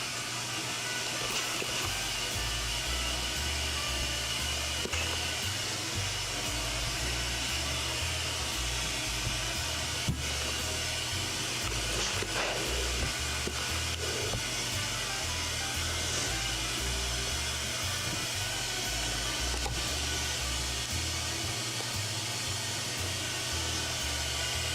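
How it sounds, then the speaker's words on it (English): A new washing machine runs with a steady, loud whooshing hiss and a low rhythmic churning hum underneath, continuous throughout with no talking. "It sounds different than I'm used to because it's a new washing machine."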